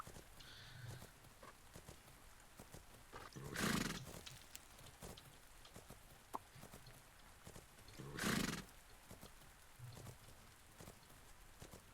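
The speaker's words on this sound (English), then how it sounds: "Now you can go into a canter." A horse in the riding game Fernhoof Grove canters with soft rhythmic hoofbeats, while two loud whinnies rise out of the steady gait and a few brief clicks land in between.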